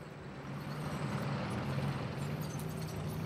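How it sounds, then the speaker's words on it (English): WWII tanks near Arnhem revving their engines, a low steady mechanical drone at a moderate distance, rising slightly and holding level without pause. "Then we heard the tanks revving up."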